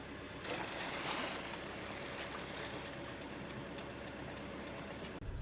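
A sailboat's engine drones steadily through an overnight passage at sea, a continuous low hum mixed with wash and wind noise, fairly faint and constant with no voices.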